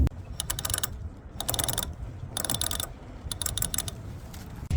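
Sailboat winches on a rebuilt Wharram catamaran cranked in bursts, giving crisp rapid ratcheting clicks in several runs separated by short pauses, close and clear with no voices.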